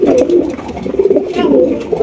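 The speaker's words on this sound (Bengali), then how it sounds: "একজোড়া হোমা কবুতর দেখেন, হোয়াইট কালারের হোমা মাশাআল্লাহ।" A pair of white homer pigeons coo loudly and close up in a continuous, throaty warble with small rhythmic pulses.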